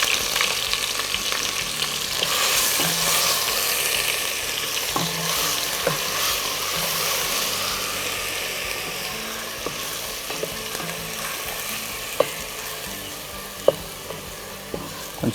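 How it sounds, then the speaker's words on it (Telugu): Onion paste sizzles and fries in hot oil in a pan, a steady crackling hiss with occasional sharp pops and stirring scrapes, close and continuous. "కొంచెం బాగా వేయించాలి."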